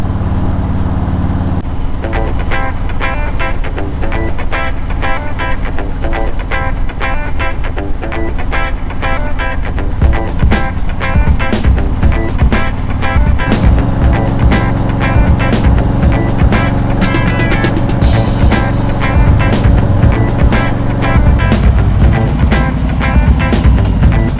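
A 2023 Harley-Davidson Road Glide 3 out on a weekend ride, its engine a loud, continuous close drone with rumbling harmonics and wind rush that rises in intensity partway through.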